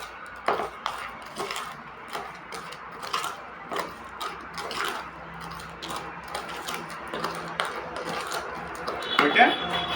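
Agri Aquagel being stirred in a container gives repeated light clinks and scraping taps at an irregular rhythm, close but soft, with a person talking through it.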